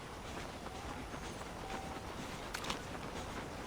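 Train rolling past in the Red Dead Redemption video game, a steady broadband rumble with faint wheel clatter at mid distance, heard alone without talk.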